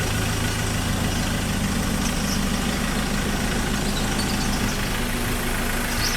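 Engine of a 2018 Ford Ranger XLT idling steadily, a loud, close, continuous low rumble with a faint knocking texture and no talking.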